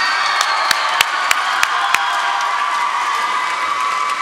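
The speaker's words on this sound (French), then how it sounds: "J'aimerais qu'on donne une bonne main d'applaudissement à votre animateur de la soirée" Audience at a school graduation ceremony cheering and applauding loudly with whoops and shouts, sustained crowd noise with a few sharp claps standing out near the start.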